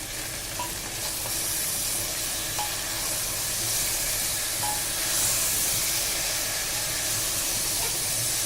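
Spices, salt and chopped tomatoes being sautéed with jackfruit in a pan, giving a steady, even sizzle and hiss with a light stirring texture throughout, close and continuous, with no talking.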